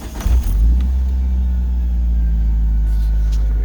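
A 1999 Mitsubishi Eclipse Turbo Spyder engine cranks briefly and catches, then settles into a steady, deep, close idle rumble.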